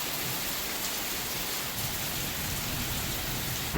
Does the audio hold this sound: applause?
no